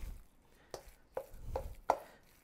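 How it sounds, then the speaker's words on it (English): Ground meat and Italian sausage are worked together by hand for meatballs, giving a few soft, wet squelches and slaps spaced about half a second apart, quiet and close. "So I'm going to continue to mix."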